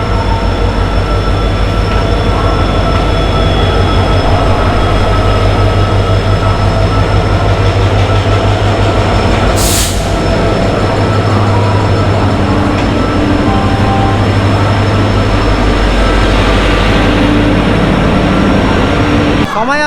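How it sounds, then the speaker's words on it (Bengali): A passenger train pulls into Shalimar railway station, a loud steady rumble of wheels and carriages close by with a sharp squeal midway, continuing throughout. "আর এখন হচ্ছে আমাদের সবে ট্রেন ঢুকলো"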